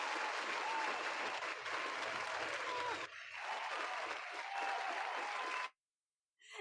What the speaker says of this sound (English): I did not add in applause for myself.